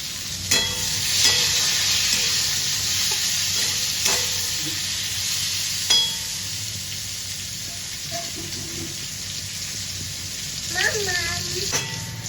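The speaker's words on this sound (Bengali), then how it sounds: "পটলগুলো আমি লালচে করে ভেজে নেব" Pointed gourd pieces sizzle steadily in hot oil while frying until reddish, with occasional clinks of a utensil against the pan and faint voices in the background.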